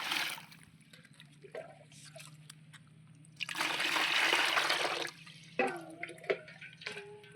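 Water pours and splashes over a dog during a bath, a quiet trickle giving way to a louder gush that lasts a second or two, followed by scattered drips and splashes.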